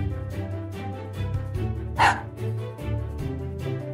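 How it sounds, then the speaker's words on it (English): A robot toy dog gives a series of bright, electronic-sounding barks and yips, close and moderately loud, over a backing of rhythmic music with a sharp burst near the middle. "Chip is a robot. Chip is a dog."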